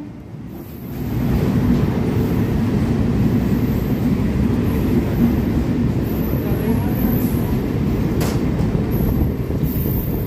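A passenger train rolls into Kharagpur Junction at night, a steady, close rumble of wheels and carriages that swells in after the first second and holds at an even level throughout.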